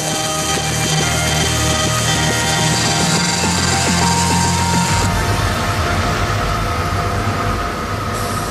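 Industrial robots welding Tesla electric car parts in a factory, a steady loud mechanical hum with dense clattering and rattling, shifting to a busier, harsher machine texture partway through, no voices.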